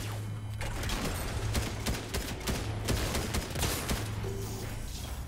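Shotgun blasts in Fortnite land as a steady series of sharp, close bangs, spaced unevenly over several seconds, amid constant game noise and low tones.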